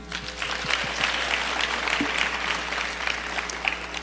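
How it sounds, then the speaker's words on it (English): A steady round of dense applause from an audience at a university performance night, honoring a judge. It holds at an even level for about four seconds with a few louder claps near the end, and no voices cut through. "Let's give a round of applause for judge number 1."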